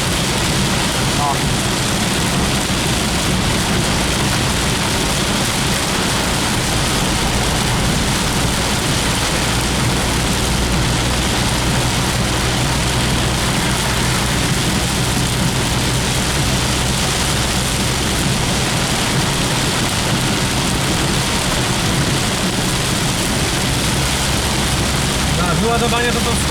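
Heavy torrential rain pours down during a strong thunderstorm over the Podhale region, a loud, steady roar of downpour that continues throughout with low rumbling underneath.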